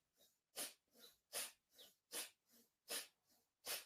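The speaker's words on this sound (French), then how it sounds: "Et on commence cette respiration du feu uniquement avec la narine gauche." Rapid rhythmic breath of fire in yoga, forceful puffs through the left nostril only, about two per second, close and alone.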